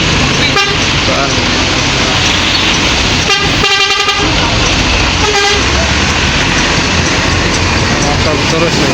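Truck horn on an Indonesian road honking repeatedly in loud, short bursts over heavy continuous traffic and engine noise, with several clustered toots in quick succession.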